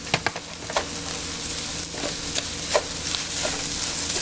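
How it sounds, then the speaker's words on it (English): Rice stirred in a pan as it toasts in butter and olive oil with shallots, a soft scraping and low sizzle with a few sharper spoon knocks near the start, steady and close. "Give that a quick stir"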